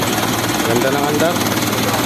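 An Isuzu 4HF1 diesel engine, converted from semi-electronic to manual control, runs steadily with a loud, dense, rough drone close by, while someone speaks over it.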